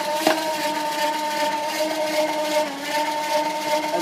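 An ice cream machine churning chocolate chip ice cream, a steady close whirring motor hum with a stable tonal drone and faint scraping throughout.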